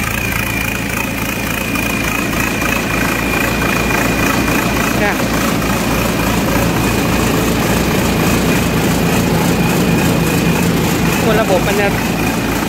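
A Thai-built walk-behind tractor engine fitted with a turbo runs loud and steady at close range, a constant throbbing drone with a whine above it, while people talk over it.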